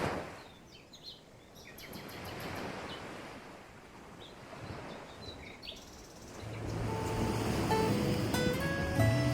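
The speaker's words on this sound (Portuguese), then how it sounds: "escutar o som das ondas e deixar o tempo passar" Surf washing ashore where a river meets the sea on a sandy Bahia beach, a steady broad wash rising and falling, with scattered bird chirps and some wind over it.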